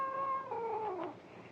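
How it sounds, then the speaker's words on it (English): A cat in an old Indian camp lets out a drawn-out, wavering meow that slides downward and fades, heard alone and fairly close against a quiet background. "They ain't skunks, it's cats."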